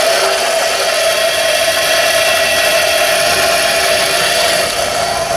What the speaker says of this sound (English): I turned off my grinder and it's still going.